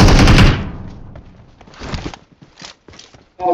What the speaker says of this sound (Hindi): यहाँ से फायरिंग की आवाज़ें भी आ रही होती है